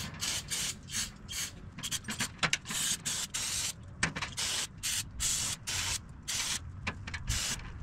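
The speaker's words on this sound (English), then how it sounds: "I'm using brake cleaner and it's coming right off." Bursts of brake cleaner spray onto the outside of a Honda lawn mower carburetor, mixed with scrubbing. The hissing comes in many short, uneven pulses close to the microphone, with occasional small knocks.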